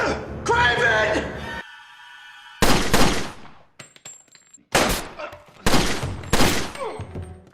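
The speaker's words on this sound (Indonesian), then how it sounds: "akhirnya Thomas terkena tembakan." Gunfire in a brutal revenge film scene comes as several loud, sharp bursts separated by short gaps, with shouting voices heard between the shots.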